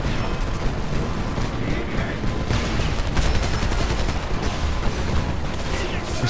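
Dense, continuous barrage of gunfire and explosions from a Homefront battle on the Golden Gate Bridge, loud and chaotic throughout with rattling shots and booms layered over one another.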